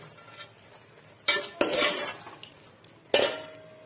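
Jaggery rice being mixed in a pan on a tawa, a few sharp metallic scrapes and clinks of a spoon against the pan in short bursts, close and fairly loud, with no talk.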